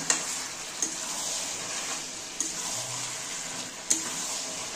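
Prawn curry with potato is stirred in a pan amid a steady sizzle, with about four distinct spatula knocks spaced a second or so apart.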